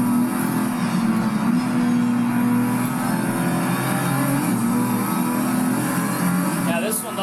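A Nissan Z Proto race car in Project Cars 3 holds a steady engine drone under someone talking, its pitch climbing and dipping slightly as the revs shift, with no pauses throughout.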